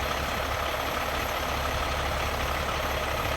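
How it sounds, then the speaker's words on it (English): A 2018 Peterbilt 389 truck with a 15-litre Cummins X15 engine idles with a steady, dense rumble, loud and close with no break. "389 Peterbilt"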